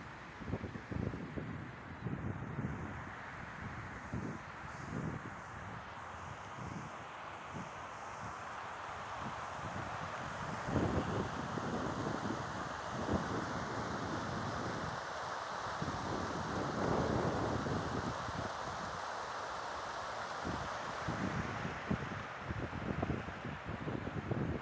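Wind blows outdoors in Madinah near the old railway station, gusting and buffeting the microphone with a continuous rough roar and irregular low thumps, steady throughout with no talking.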